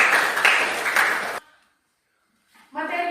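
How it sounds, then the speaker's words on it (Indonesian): Students in a classroom clap together in a short, loud burst lasting over a second, then cut to silence before a voice begins speaking. "Tepuk tangan."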